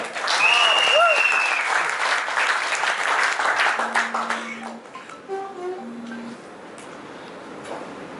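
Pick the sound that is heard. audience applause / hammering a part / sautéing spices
audience applause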